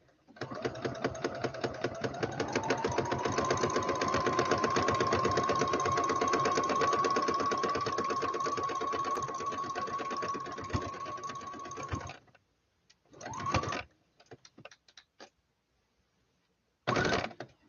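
Home sewing machine stitching a memory bear, a steady mechanical whir running continuously for about twelve seconds, then several short bursts of stitching with pauses between, close and fairly loud.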